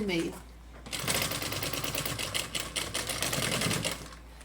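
A sewing machine stitches a school backpack in rapid, close mechanical bursts, the needle rattling in short runs with brief pauses between them.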